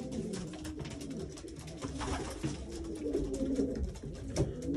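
Racing pigeons cooing inside a London loft, several soft overlapping coos and rustles at a low, quiet level, close by and without talk.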